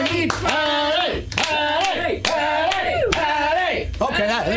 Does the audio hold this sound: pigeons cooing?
no